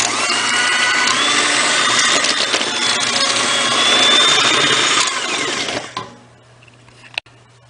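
An electric hand mixer whirs steadily and loudly while beating eggs into oatmeal, pecan, chocolate and coconut cookie dough, then cuts off near the end, leaving near-silence and a brief clack.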